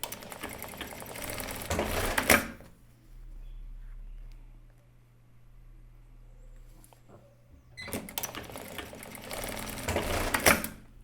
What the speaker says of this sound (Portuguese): Então, eu venho e costuro a lateral.